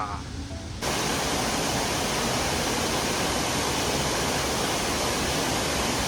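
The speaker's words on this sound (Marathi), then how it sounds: "धबधबा" A loud, steady roar of a river waterfall beyond Dehen village fills the scene after a brief quieter start, constant and broadband with no breaks.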